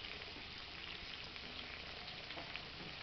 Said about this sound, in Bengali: কিছুক্ষণ ফুটিয়ে নিয়েছি, দেখুন তেল ছেড়ে দিয়েছে